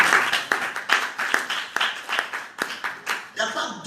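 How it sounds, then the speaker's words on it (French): A church congregation claps in steady rhythmic unison, loud and close, with voices cheering and calling out over the beat throughout. "Acclame très fort le Seigneur"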